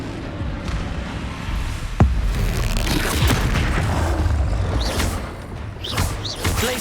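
A Depulso spell impact in Hogwarts Legacy, a sharp booming hit near the two-second mark followed by a whooshing, rumbling magical wash and softer swishes, loud and close against game ambience.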